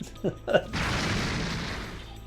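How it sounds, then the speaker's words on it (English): The spirit cannon firing in R-Type Tactics: a broad rushing blast that swells and holds for over a second, following a voice speaking briefly. "Fire that spirit cannon."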